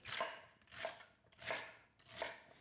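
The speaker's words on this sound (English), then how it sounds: "I'm just going to chop the celery" Four crisp knife chops through celery on a cutting board, evenly spaced and close, with no talking.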